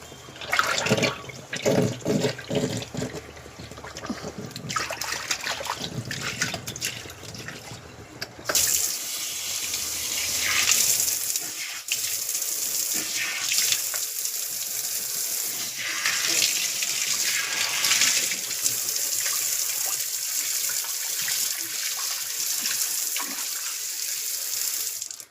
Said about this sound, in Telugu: హ్యాండ్స్ పెట్టి తీసామంటే హోల్స్లో నుంచి వాటర్ వెళ్ళిపోతుంది